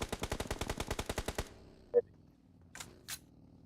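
A rapid burst of automatic gunfire at a shooting range in PUBG Mobile, about a dozen sharp evenly spaced shots, then a lone quieter shot and a couple of faint distant cracks.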